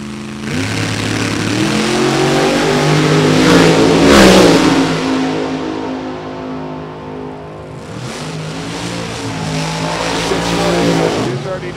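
A drag racing car with a Spitzer chassis revs loud and sustained at a strip during late Saturday qualifying, the roar rising and easing with a near pass around four seconds and another surge near eight, under an announcer's commentary.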